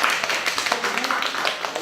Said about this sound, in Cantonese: 拍手掌，未退休嘅